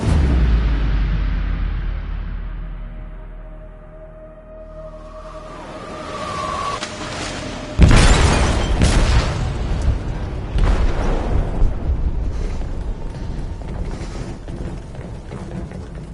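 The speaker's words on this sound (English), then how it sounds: "They detonated an explosive in the hold." An explosive detonating in a ship's hold in a video game: a low rumble fades, a tone rises, then a sudden heavy boom hits, followed by long roaring, crackling aftershocks and a second loud blast.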